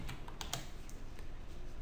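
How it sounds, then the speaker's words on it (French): Keys tapped on a computer keyboard while a shortcut is entered during InDesign font formatting, a few soft quick clicks close to the microphone with no talk. "je vais utiliser le raccourci clavier CTRL A"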